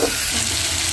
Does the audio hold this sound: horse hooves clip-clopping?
no